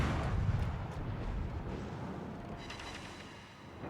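Naval ship guns fire in the video game World of Warships, a deep rolling boom of heavy rumble that slowly fades away across several seconds.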